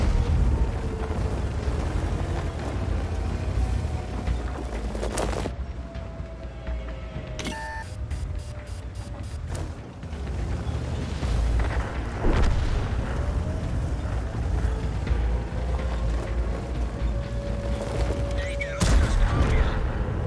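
Tank cannon shots and explosions from World of Tanks boom repeatedly over a constant rumbling engine bed, with sharp blasts, a metallic ringing hit and trailing whines spread across the battle.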